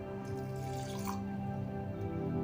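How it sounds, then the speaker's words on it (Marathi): Milk is poured over soaked rice in a pot for Marathi-style rice kheer, a soft liquid splash for about a second over a steady low background hum, with no talking. "हे भिजवलेले तांदूळ घातले त्याच्यामध्ये आणि याच्यामध्ये थोडंसं दूध घालू"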